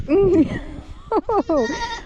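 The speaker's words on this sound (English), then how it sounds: "That is a happy goat." A goat bleats loudly up close: one long wavering call, a short pause, then three quick quavering bleats.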